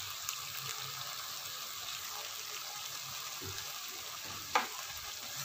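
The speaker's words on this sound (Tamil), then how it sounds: "அஞ்சு நிமிஷம் சிக்கன் நல்லா எண்ணெயில் வதங்கிடுச்சு. அடுத்ததான் நம்ம அரைச்சி வச்சுருக்க பொடியை சேர்த்துறேன்." Chicken sautéing in oil with freshly ground spice powder for curry leaf chicken, a faint, even sizzle with a couple of soft stirring knocks near the end, and no voices.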